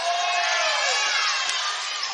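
A basketball crowd in a college game between Clayton State and Clark Atlanta roars continuously, a dense wash of shouting and cheering calling for a travelling violation, loud and sustained throughout.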